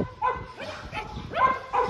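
Dogs at a mountain stray-dog rescue base housing over 200 dogs bark in a quick series of four or five fairly close, sharp woofs, with quieter barking in the background between them.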